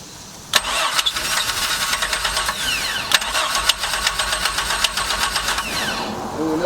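A truck V6 engine swapped into a MerCruiser ski boat cranks and fires, settling into a loud, rough-running idle with rattly knocks and clicks over a steady broadband roar.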